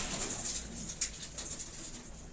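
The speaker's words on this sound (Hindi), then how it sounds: "ये वाइट रेसिंग पिजन्स है।" White racing pigeons, imported white homers, coo softly in a loft, low repeated murmuring calls under faint rustling and a brief flutter, with no voices.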